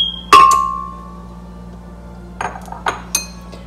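A few sharp glass clinks and taps, one ringing briefly, then scattered clatters of eggs being emptied into a glass blender jar, close by with no talking.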